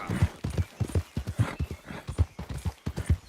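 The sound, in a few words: horse hooves in a video game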